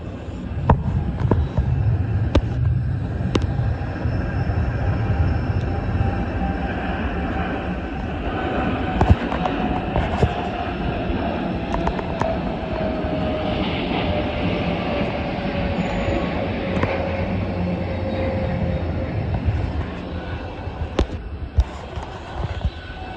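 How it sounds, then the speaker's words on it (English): A Kenya Airways Boeing 787 taking off from Heathrow, heard as a sustained loud roar with a slowly falling whine and scattered crackles, no voices. "Here comes the Kenya Airways 787 returning home to Nairobi."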